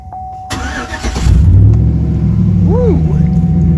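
A Chevy Silverado pickup with its muffler cut off cranks and fires up, then settles into a loud, rough, rumbling idle right up close.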